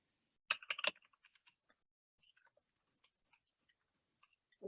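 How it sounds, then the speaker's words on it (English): Someone types on a computer keyboard with an opening flurry of clustered keystrokes, then sparse scattered taps, quiet and close, with no talking. "I'm just typing it in here."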